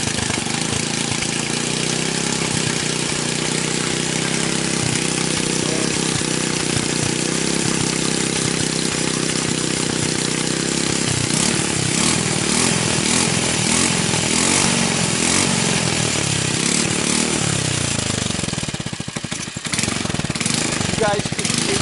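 A GY6 scooter engine running on a pit bike CDI ignition gives a steady, loud, raspy drone throughout, with rough uneven pulses near the end.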